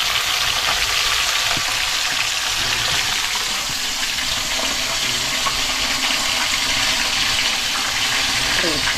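Fish frying in hot oil, a steady loud sizzle and hiss that fills the whole stretch without a break, with no clear talk over it.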